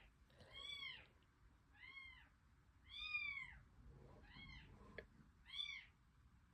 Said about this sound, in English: There's a cat outside my door yelling.